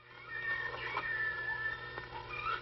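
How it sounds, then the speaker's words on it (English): A baby lion cub cries out with a steady, fairly loud, whiny vocal, rising into higher meow-like wails near the end, sounding close and continuous. "That's just a little baby lion."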